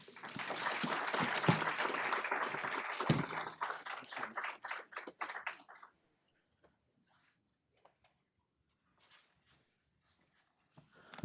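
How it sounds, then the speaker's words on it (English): An audience claps at a forum on employee share ownership, dense applause for about four seconds that thins into scattered separate claps and ends in near silence. "I think that deserves another round of applause"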